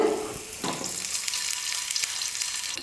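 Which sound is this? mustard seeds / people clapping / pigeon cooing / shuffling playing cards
mustard seeds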